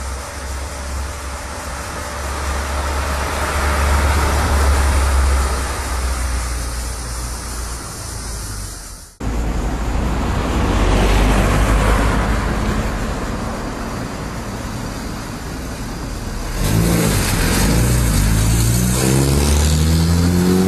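A 1985 Ford Escort XR3 drives past with a steady mid-pitched engine drone that swells and eases, briefly cuts out, then returns and builds into a harder rev near the end, with no talking.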